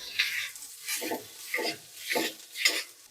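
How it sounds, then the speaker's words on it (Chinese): Bitter melon is stir-fried in a hot wok with oil and aromatics, the spatula scraping and tossing in about five rhythmic sweeps over a steady sizzle, close and clear, with no talking. "给点油，把料头先爆香，苦瓜进去炒一炒"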